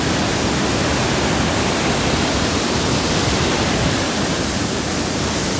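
Floodwater rushes over a full dam near a hilltop Khodiyar temple, heard from a bridge as a loud, steady, unbroken roar with no voices.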